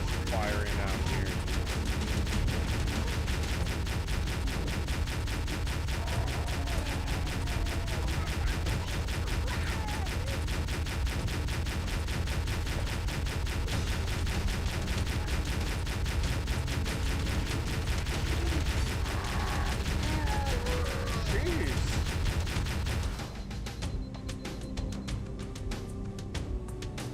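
Plasma weapon fire in Halo: Combat Evolved, a loud continuous stream of rapid shots and blasts over game sound and music for most of the span, dropping to quieter ambience near the end, with a player's voice at times.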